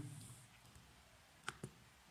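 Two quick computer mouse clicks, close and crisp, as a signal generator component is selected and placed in a Proteus circuit simulation, over a faint quiet room background.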